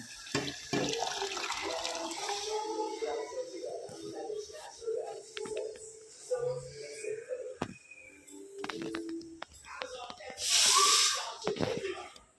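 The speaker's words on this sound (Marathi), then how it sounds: "थोडंसं त्याच्यामध्ये थोडंसं अजून पाणी मी थोडं घालतो" Water pours briefly into a pot of dal near the end, a short hissing splash after quieter kitchen clatter and murmured voices.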